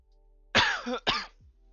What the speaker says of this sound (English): I hella just coughed in the mic.